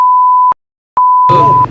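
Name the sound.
censor beep over offensive words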